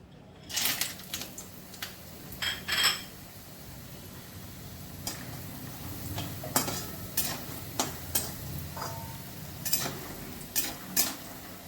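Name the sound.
frying lentil dumplings (bori) in a pan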